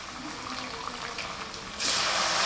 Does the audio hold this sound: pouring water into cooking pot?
yes